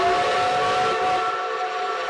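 A restored steam locomotive pulling wooden coaches sounds a loud, sustained whistle with a breathy hiss, held steadily throughout and close by.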